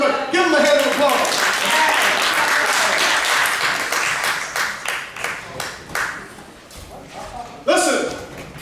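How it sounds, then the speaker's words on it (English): Church congregation clapping in applause, a dense burst of many hands that fills the room, fading after a few seconds with a voice talking over it and a brief swell near the end. "Give him a hand of applause."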